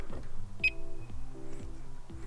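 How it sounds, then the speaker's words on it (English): A 2006 Audi A8 lets out one short, high electronic beep as it locks. The chirp is brief and crisp over a low, steady background hum. "if I lock the car, there will be the alarm beep"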